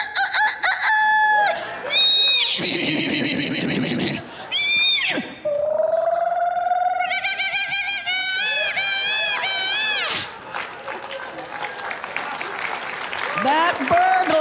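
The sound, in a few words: comedian imitating a roar to scare off a burglar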